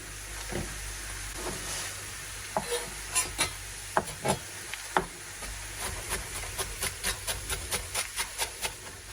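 Onion frying in a pan, a soft continuous sizzle with a run of regular scraping stir strokes that grow quicker and more even toward the end.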